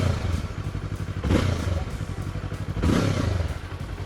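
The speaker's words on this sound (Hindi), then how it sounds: "This is how the bike sounds like." A 2024 Yamaha R3 twin-cylinder sport bike idling close up, its engine throbbing in a steady pulsing rhythm with two short blips of the throttle that swell louder and ease back.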